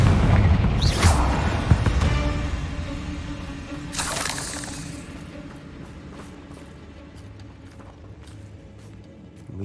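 A Confringo blasting spell from Hogwarts Legacy bursts out with a sharp crack and a second bright explosive burst, each fading into low rumbling debris over a dull, steady ambient hum.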